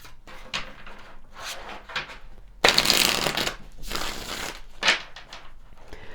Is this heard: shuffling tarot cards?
yes